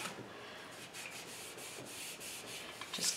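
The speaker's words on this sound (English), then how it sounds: "I'm just going to rub it in here into the cloth so it's not all clumpy" Dry cloth rubbed against a wooden headboard while working chalk paint into it, a steady soft scrubbing with faint rhythmic strokes, close and fairly quiet throughout.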